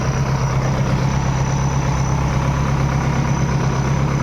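Tractor engines idling at a tractor pulling contest produce a steady, loud, low diesel rumble with a constant drone and no pauses or change in pitch.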